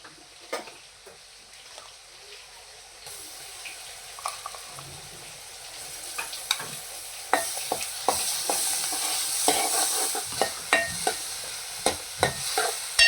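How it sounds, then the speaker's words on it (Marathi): Ground Malvani masala frying in oil for a surmai fish curry, starting as a faint sizzle that grows louder, with sharp spoon scrapes and clinks against the pan toward the end and no talking. "मसाला दोन तीन मिनटं तेल सुटेपर्यंत आहे ना आपल्याला व्यवस्थित असं परतून घ्यायचं आहे"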